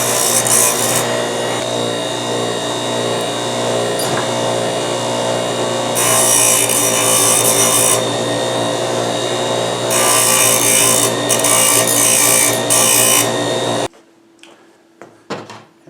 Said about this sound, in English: this is a deburring tool